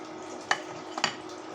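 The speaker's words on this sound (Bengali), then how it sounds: "একটু নাড়াচাড়া দিয়ে নামিয়ে ঠান্ডা করে বয়মে ভরে রাখবো" Mango pickle fries in a pan while a spoon stirs it, a soft steady sizzle with two brief scraping strokes, faint and close.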